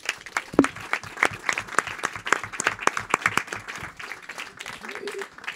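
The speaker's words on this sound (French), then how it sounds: "Je crois qu'on peut l'applaudir pour..." Applause at a municipal council meeting, a burst of many hands clapping at moderate distance for about four seconds, tapering off toward the end.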